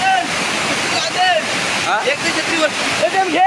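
Loud, steady rush of falling water from a nearby forest waterfall, with bursts of voices speaking over it as people wade through the water.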